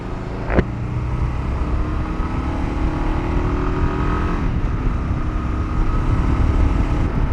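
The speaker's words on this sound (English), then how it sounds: "Sitting at a stop, you do feel that single cylinder pulsing." A Kawasaki KLR 650 single-cylinder motorcycle engine idles with a steady, throbbing low rumble that continues evenly throughout, with no voices.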